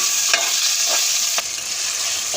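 Chopped tomato cooking in a pan with onions and green chillies for a mushroom biryani, giving a loud, steady bright sizzle broken by three quick stirring strokes.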